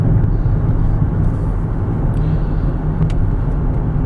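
A 1998 Toyota Camry LE sedan under full load gives a steady, loud low engine and road drone that stays even throughout, with no talking.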